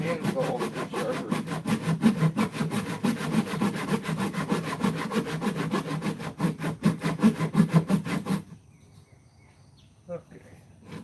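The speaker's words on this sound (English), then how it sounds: "the old handsaw is sharper" An old handsaw cuts through wood in steady, rapid back-and-forth strokes, close and fairly loud for about eight seconds before stopping, followed by quiet with a faint knock.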